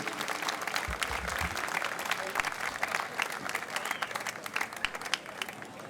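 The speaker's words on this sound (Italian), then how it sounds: "fate un applauso grande per l'organizzazione" Big audience applause at an outdoor tribute concert in Jesolo, a dense continuous clapping wash with scattered cheers, steady and fairly distant throughout.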